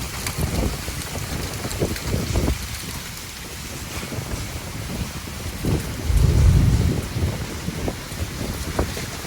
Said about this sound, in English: expecting some thunder showers later today